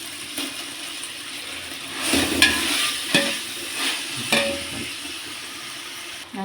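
Mint and coriander leaves sautéing in a pan for chicken biryani, a sizzling hiss broken by several scraping, clattering stirs of a spatula, with no one speaking.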